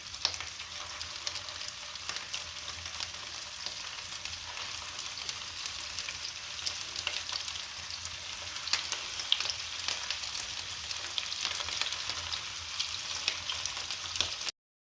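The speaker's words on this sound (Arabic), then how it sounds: "هاد الزيت نطيب فيه اللوبيا تاعي" Beans sizzle and crackle in hot oil in a frying pan, a continuous close-up spatter with no voices, steady for the whole stretch.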